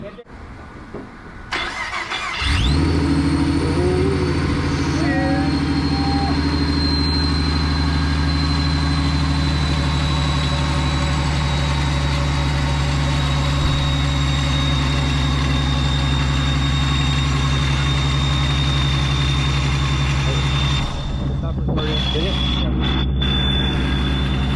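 A Ford Mustang with a freshly installed Procharger supercharger cranks and fires up, then runs at a loud, steady, droning idle close by for about twenty seconds, with voices talking over it.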